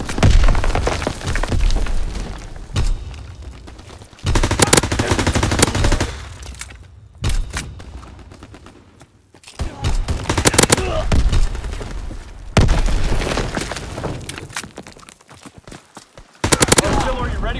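MP40 submachine gun firing in Call of Duty WW2, loud sustained automatic bursts separated by short pauses, close up, with game voice lines between bursts.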